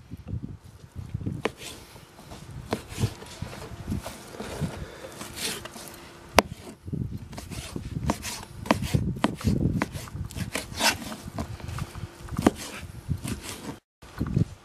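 Knife chopping lamb offal on a board outdoors at a wood fire, with irregular sharp taps and thuds in uneven bursts, fairly close, amid light rustling.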